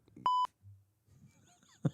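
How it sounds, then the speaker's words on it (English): A short, loud censor beep on a live auction stream's microphone, one steady tone lasting about a quarter second, followed by faint background noise and a brief murmur of speech. "It doesn't work because I hear the beep through."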